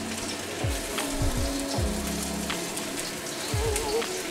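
Meatballs drop into hot oil in a wok, four at a time. Each one brings a thud and a burst of sizzling over a steady frying crackle, close and fairly loud.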